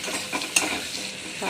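A brief burst of potatoes sizzling in butter in a pan, with a soft stirring scrape and one small metallic tick partway through.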